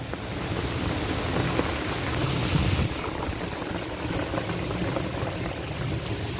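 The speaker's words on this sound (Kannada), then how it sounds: "ಸಖತ್ ಹಿಂಗೆ ಹೊಡಿಬೇಕು ಮಳೆ ಅಲ್ವಾ." Heavy rain pours in Bengaluru as a steady, dense roar that stays loud and even from start to finish, with no voices over it.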